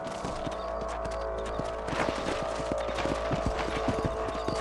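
Horse hooves clip-clopping steadily while riding across a ranch property in the video game Red Dead Redemption, a continuous close rhythm of hoofbeats over low ambient background, with no talking.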